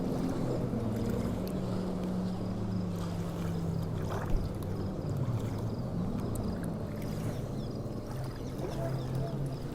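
Boats motoring across open water, a steady low engine drone with shifting pitch, wind and lapping water over the whole stretch and a brief knock near the middle.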